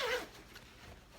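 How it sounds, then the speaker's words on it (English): A zipper on a tote bag is pulled open in one short, quiet rasp close by, followed by faint handling sounds. "I'm going to open the zipper on my bag"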